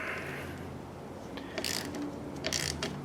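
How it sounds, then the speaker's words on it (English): A 10mm nut on a headlight being snugged with a ratchet wrench: a few quick ratcheting clicks in short bursts, close and fairly quiet over a steady background hum. "Grab our 10mm, tighten that up."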